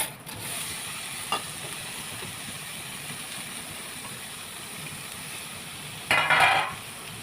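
Onion and tomato frying in a pan for spicy brinjal bharta, a steady close sizzle running throughout with a brief stir or clatter near the end.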